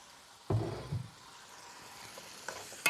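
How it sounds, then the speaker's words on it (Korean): Lotus root stir-fries in cooking oil in a frying pan, a soft, low sizzle broken by a few louder bursts and clatters as it is tossed and stirred. "요걸 넣어 식용유 주세요. 먼저 볶네요."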